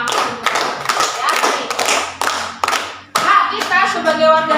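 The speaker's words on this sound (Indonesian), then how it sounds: "Tepuk tangan karena menyimak." A group claps in several quick bursts with brief pauses, close and loud, with children's voices mixed in.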